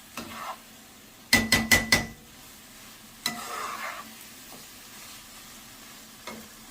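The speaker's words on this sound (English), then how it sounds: "Now the onion is caramelizing." Mushrooms and onions sauté quietly in a pan, with a burst of four sharp utensil clinks against the pan, then soft stirring scrapes and sizzling.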